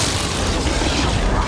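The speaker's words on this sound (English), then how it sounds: "Green goo explosion." A green goo explosion in the video game Pillars of Eternity: Deadfire, a dense, loud, sustained booming roar with low rumble and broadband hiss filling the whole stretch.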